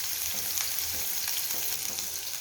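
Small onions, or shallots, fry in a pan for Karkidaka medicinal rice porridge, giving an even, close hiss of sizzling oil with faint stirring ticks.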